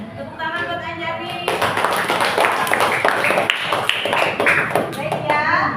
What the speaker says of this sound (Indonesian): Tepuk tangan buat Anjani